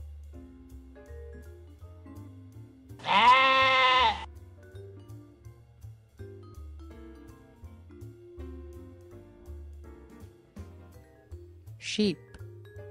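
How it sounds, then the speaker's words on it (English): A single loud sheep bleat, wavering and close, lasting about a second, followed later by a shorter second bleat over a low background hum. "Sheep."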